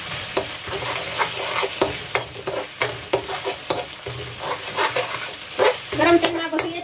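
Dried fenugreek leaves and spices hit hot oil in a pan with a steady, close sizzle, broken by frequent clinks and scrapes of stirring, with no talking.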